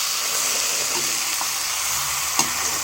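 Broiler chicken meat frying in a pan while being stirred, a steady close sizzle with a few soft scraping knocks of the spoon.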